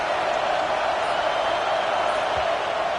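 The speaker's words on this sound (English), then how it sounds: "Decibels rising as the crowd gets behind this defense on third down." Large stadium crowd at a Wildcats at Michigan State football game roars steadily behind the defense on third down, a dense, continuous wall of noise with no break.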